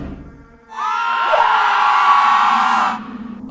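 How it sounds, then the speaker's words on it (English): Party guests at a Halloween gathering scream in horror, a loud sustained chorus of several voices shrieking together for about two seconds before cutting off. "causing everyone at the party to scream in horror."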